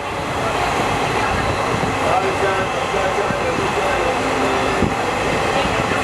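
A moving passenger train from Sealdah, heard from inside, rumbles steadily and loudly, a continuous dense roar with faint metallic squeaks and murmuring voices.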